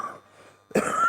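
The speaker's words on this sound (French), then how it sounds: "Je commence par tousser, j'en suis désolé." A single sharp cough bursts out near the end after a brief quiet stretch, close and fairly loud, with no speech in between.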